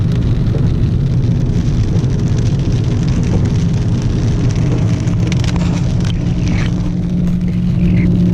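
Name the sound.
monsoonal rain in Big Bear Lake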